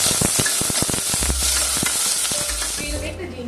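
Onion frying with bay leaves, black peppercorns, cloves and cinnamon in a pressure cooker, giving a loud, steady sizzle with scattered crackles and a stirring scrape, easing slightly toward the end.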